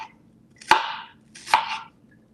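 Two crisp knife chops cut through onions on a cutting board, each a sharp close thud with a short crunchy tail, spaced about a second apart in a quiet room.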